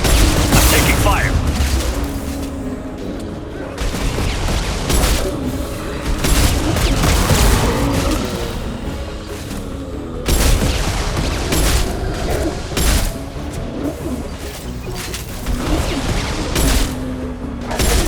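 Gunfire and heavy booms from a Mass Effect 2 battle fill the stretch with dense, continuous crackling blasts and impacts, alongside game voices and effects at a steady loud level.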